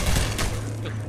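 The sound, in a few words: gunfire in the video game Half-Life 2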